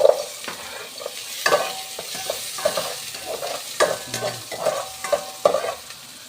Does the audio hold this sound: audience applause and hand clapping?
no